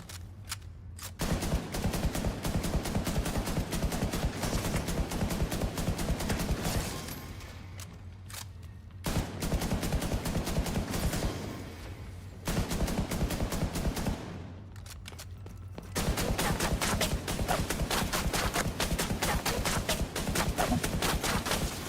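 Bursts of automatic gunfire in The Division 2 shooter game, long rapid volleys separated by brief pauses, loud and continuous through each burst with mechanical clatter between.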